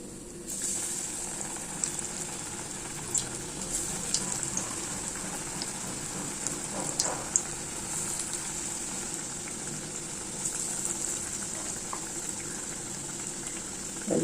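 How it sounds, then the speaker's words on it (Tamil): Masala vada deep-frying in hot oil, a steady, dense bubbling sizzle with scattered pops, continuous and close, with no talking. "மசால் வடை வெந்துட்டுருக்கு, திருப்பி போடலாம்."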